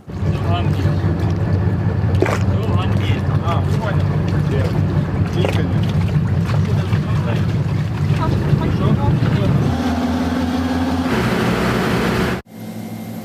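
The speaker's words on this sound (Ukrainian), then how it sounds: "А ось це ми пересіли на інший катер, який патрулює акваторію річки Дніпро." Steady engine drone and water rush of a Sea Ark Douglas patrol boat under way on the Dnipro river, loud and continuous with wind buffeting, the tone shifting near the end before a brief cut.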